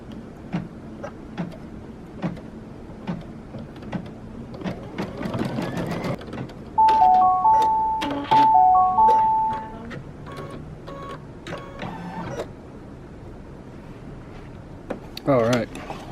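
Computerized embroidery machine stitching a white border around an egg design on an in-the-hoop coaster, a steady run of quick needle clicks with a few brief tonal beeps partway through and occasional speech in the background.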